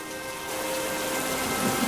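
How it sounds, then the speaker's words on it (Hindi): Heavy rain pours down in a dense, steady roar, loud and close, with no voices. "कमला बारिश में पूरी तरह से भीग चुकी थी, जिसके कारण वह ठंड से कांप रही थी।"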